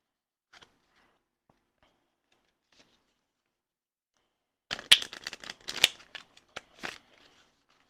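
A few seconds of quiet, then a burst of crisp riffling and snapping as a deck of tarot cards is shuffled up close.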